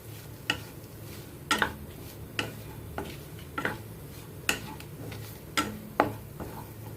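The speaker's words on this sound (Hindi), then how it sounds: "और अब इसको फिर से चलाते हुए गोल्डन ब्राउन होने की इसकी वेट करते हैं।" A spoon stirring onions with a little water in a pan for a zero-oil arbi masala curry. The utensil knocks against the pan in a series of sharp, irregular clicks over a low steady background.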